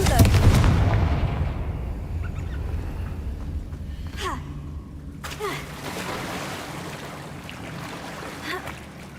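Confringo fire spell cast in Hogwarts Legacy, a loud blasting burst at the start that rumbles and fades, followed by later whooshing magical swishes and a second impact, game audio alone.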